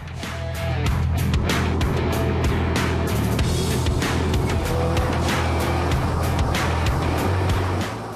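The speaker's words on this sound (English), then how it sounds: "Klaus Niedzwiez hits the brake and downshifts, and yes, the car responds perfectly" Porsche 911 GTS engine roaring steadily at speed, heard from inside or near the car with a continuous loud drone and faint rhythmic ticks, no clear braking or downshift stands out.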